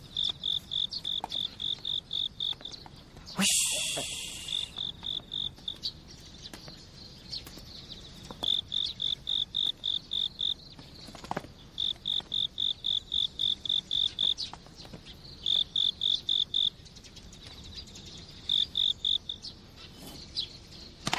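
Crickets in a damp, spring-fed garden chirp in steady high-pitched bursts, with short pauses between runs. Brief rustling and a few quiet spoken words break in now and then.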